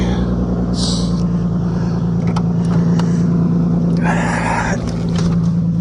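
A 1998 Lexus GS300 with a hood that won't shut drives along on a test drive, its steady engine and road noise loud and continuous throughout, with a couple of brief higher hissing bursts over the drone.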